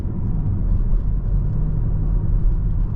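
A 2019 Chevrolet Blazer RS FWD accelerates on the road, heard from inside the cabin as a steady, loud low rumble of engine and road noise without talk.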